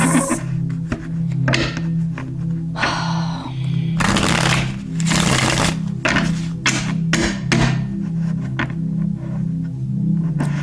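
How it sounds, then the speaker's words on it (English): Vigorous tarot card shuffling close up: repeated riffling bursts and slapping flutters with brief pauses, over a steady low hum, no talking. "this shuffling is intense"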